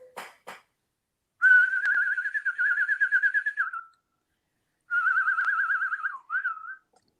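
A person whistles two long warbling, trilling phrases imitating a birdsong, clear and close, after a couple of brief taps.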